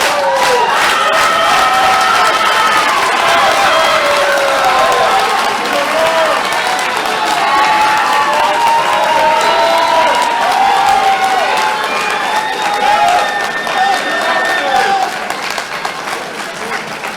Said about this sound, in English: Crowd started with the slow clap to build motivation here.